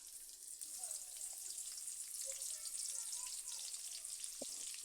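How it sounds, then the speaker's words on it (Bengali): Chopped onion and a bay leaf frying in hot oil, a faint, even hiss of sizzling with small crackles and one brief knock near the end. "তেলটা গরম হওয়ার পর একটা তেজপাতা দিয়ে দিলাম অল্প পরিমাণে পেঁয়াজ কুচি দিয়ে দিলাম"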